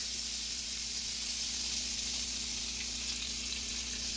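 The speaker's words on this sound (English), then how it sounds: "So we're doing 2 fried eggs. So I'm just gonna crack" Two eggs frying in butter on a flat skillet make a soft, continuous sizzle and crackle with a low steady hum underneath, heard alone without talking.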